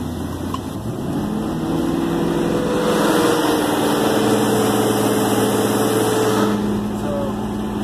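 A race car engine runs in gear with its wheels lifted off the ground in a garage, a steady close drone that swells as the revs climb, then settles back.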